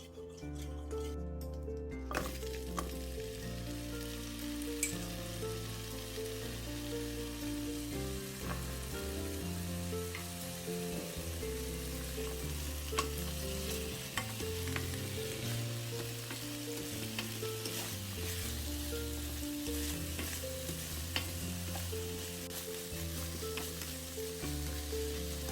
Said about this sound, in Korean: 팬에 식용유 2큰술을 두르고 연근과 땅콩을 넣어서 먼저 볶아주세요.